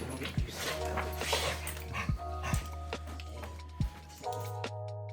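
Several dogs bark, yip and whimper in short bursts at close range over steady background noise.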